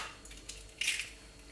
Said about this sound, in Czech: Sem si rozbiju všechny 4 vajíčka.